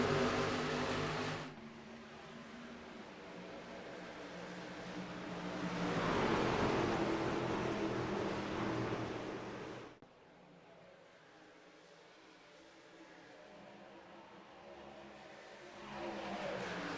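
Racing truck engines roar and rev together at the green-flag start of a Nashville race in the SAVE22 Truck Series video game, a continuous loud engine drone that swells midway, then drops and builds again.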